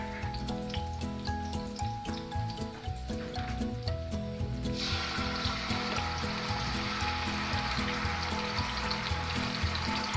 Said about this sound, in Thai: จะมีเต้าเจี้ยวเอาลงไปผัดกับกระเทียมค่ะ